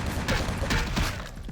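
Gunshots in Vampire: The Masquerade - Bloodlines sound as several sharp, muffled bangs spaced irregularly across a short stretch, close and fairly loud over a rumbling background.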